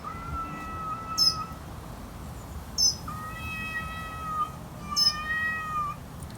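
Cats in a standoff fight give drawn-out, wavering yowls and meows, three rising calls spaced a couple of seconds apart over steady outdoor background noise, fairly close.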